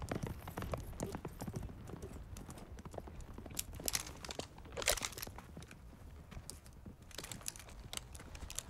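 Horses' hooves clip-clopping at a steady pace, with dense irregular hoof strikes that are moderately close but fairly quiet and carry on throughout, with no talk over them.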